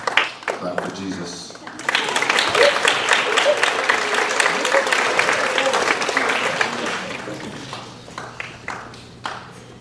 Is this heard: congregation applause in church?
yes